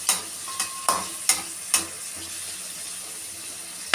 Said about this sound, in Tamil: சோம்பு போட்ட உடனே எண்ணெயிலே வேகும்